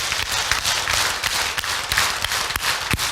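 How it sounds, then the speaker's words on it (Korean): A large crowd at a church Bible lecture meeting claps in unison, producing a dense, steady roll of hand claps with regular accents and no talking throughout. "자, 박수 10번 시작."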